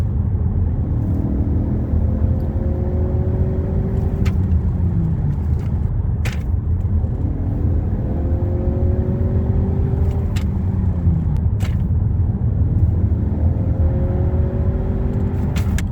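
A car engine is revved to full throttle and allowed to coast back down during a transmission flush, repeating in about three rising and falling cycles against a steady loud rumble.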